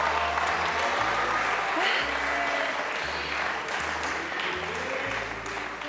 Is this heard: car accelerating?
no